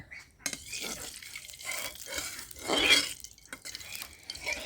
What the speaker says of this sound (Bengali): এখন আমি মাছগুলো তো ভেজে নিব, সেজন্য কড়াইতে একটু আমি তেল দিয়ে দিচ্ছি